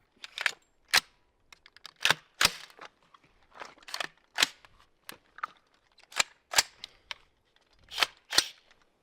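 Sharp, loud video game gunshots crack out one after another in an uneven rhythm, about a dozen bursts with short silences between them.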